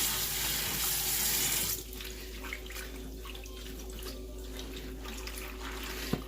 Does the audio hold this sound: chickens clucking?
no